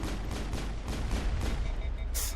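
Explosion and gunfire in the Mass Effect 1 video game: a dense, continuous rumble of repeated booming shots and blasts with a bright burst near the end.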